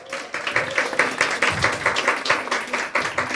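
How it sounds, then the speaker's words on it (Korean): A church congregation applauds, a dense run of fast, close hand claps that holds at a fairly steady level for a few seconds. "박수 한번 주세요."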